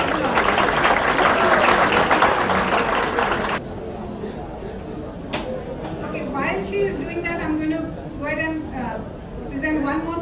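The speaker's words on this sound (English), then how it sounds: "Please give him a huge round of applause" A crowd at an awards function applauds in a loud burst of clapping that stops after a few seconds, followed by a person talking over a murmuring room.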